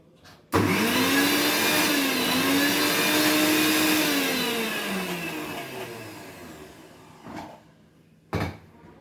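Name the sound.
mixer grinder grinding ginger garlic paste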